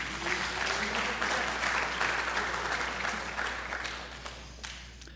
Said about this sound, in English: If you guys can give her a round of applause, I'd appreciate it